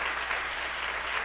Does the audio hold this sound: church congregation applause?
yes